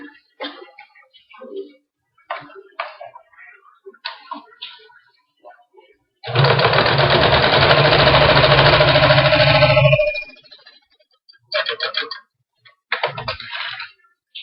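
A sewing machine stitches fabric strips together for a quilt's nine-patch block, one steady, close whirring run of about four seconds between bursts of fabric handling and faint rustling.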